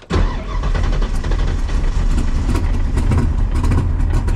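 A flooded car engine cranks and catches, then runs roughly and loudly close by, its uneven idle sputtering and rising throughout with no clear talk over it.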